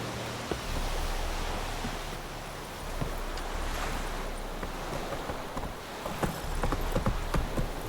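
Horse hooves clip-clop steadily at a gallop in The Witcher 3 game, muffled under a broad wash of ambient noise, with a few louder knocks near the end.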